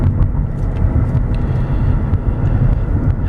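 A 2002 Mercedes-Benz E320 Sport accelerating hard at about 80% throttle, its engine a loud, steady low roar with heavy road and wind rumble throughout.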